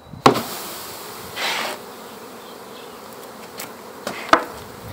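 A swarm of honeybees tipped out of a bucket in front of a hive gives a steady, close buzzing drone throughout, broken by a couple of sharp knocks and a brief louder whoosh as the bees are dropped.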